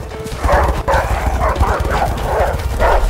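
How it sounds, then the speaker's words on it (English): Several dogs barking and yipping in the video game A Way Out, a run of repeated barks at steady loudness over a low rumble of game action, close by, with no talk. "Fucking dogs."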